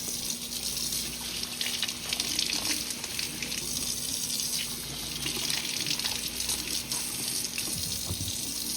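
Jalapeños are rinsed under a running kitchen tap, a steady gushing splash of water into the sink that holds at even strength throughout with a faint constant hum behind it.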